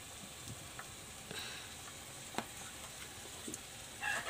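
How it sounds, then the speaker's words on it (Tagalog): Bagoong alamang shrimp paste, about two kilos, being stirred in a pan, a faint steady sizzle with occasional soft scrapes and taps of the spoon, quiet and close, no talking. "Ihalo ko na yung bagoong parikoy."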